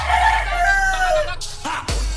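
A gamecock crows once, a loud, drawn-out call up close, followed by a couple of sharp knocks and a brief rustle.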